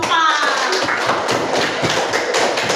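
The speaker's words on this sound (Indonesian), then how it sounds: "Beri tepuk tangan juga untuk kelompok" Classroom applause for a student group, a brisk patter of many hands clapping close by, steady and lively for the whole stretch, with a voice briefly audible at the start.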